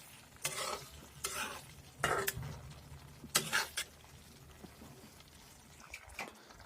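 Fried eggs are stirred into a sizzling spice masala in a pan for an egg curry: a spoon scrapes and turns the mixture in several short bursts over a steady low frying hiss, close up with no talk.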